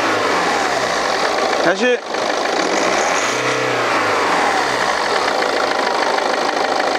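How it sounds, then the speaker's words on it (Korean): A BMW 5 Series engine with a turbo intercooler hose fault revs as the accelerator is pressed, a loud close engine note that rises and falls over steady running, with a brief spoken word partway through. "걸어봐. 악셀 한번 밟아봐."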